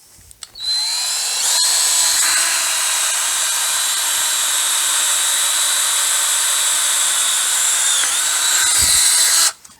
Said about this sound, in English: So once again, we're just going to drill a pilot hole.